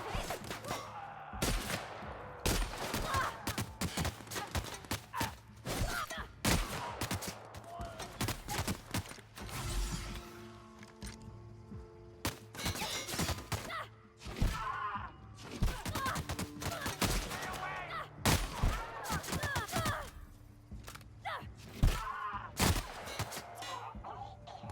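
Bursts of gunfire aimed at the player in The Outer Worlds, Edgewater, crackle in repeated volleys and single shots across the scene, mixed with game noises and the player's muttered voice.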